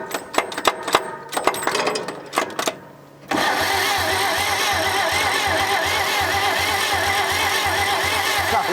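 A 1947 International Harvester KB3 fuel truck engine stumbles and clatters unevenly for about three seconds, then catches and settles into a loud, steady, rumbling idle that holds to the end.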